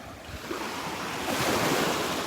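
Ocean waves break on the beach at Delnor-Wiggins on a morning walk, with a steady wash of surf and wind buffeting the microphone, growing louder halfway through as a wave rolls in.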